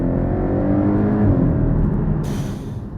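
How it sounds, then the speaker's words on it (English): Porsche Cayman engine revving, heard from inside the cabin: a loud, steady low drone with rising intensity and a brief brighter edge near the end, no talk. "Now, the Cayman's cabin is quite noisy."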